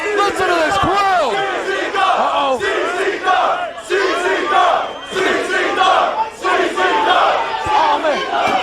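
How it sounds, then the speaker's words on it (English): A loud wrestling crowd at an ultraviolent wrestling event roars and cheers in rising and falling waves, with shouts and yells piling over one another close by. "Listen to this crowd."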